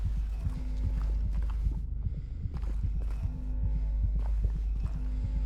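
A dying character's heartbeat in the Silent Hill 2 remake, a steady, loud, throbbing low thump repeating at a regular pulse throughout, layered over a dark ambient hum.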